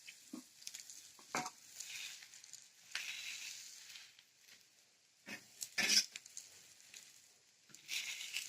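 Dhapate flatbread fries in oil on a tava griddle, giving soft sizzling with intermittent louder crackling bursts and stirring scrapes, fairly close and on its own.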